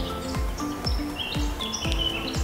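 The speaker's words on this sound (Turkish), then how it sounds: "Öncelikle şu kuş seslerini duyuyor musunuz?" Outdoor birdsong at a villa in Gölbaşı, Ankara: repeated short chirps and thin whistled notes over a steady background hum, moderately close and with no talk over them.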